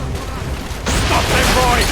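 Ship cannons fire in a naval battle in Assassin's Creed Rogue Remastered, a loud broadband volley of blasts that jumps in suddenly and rumbles on with crackling debris, following a brief stretch of low ambient noise.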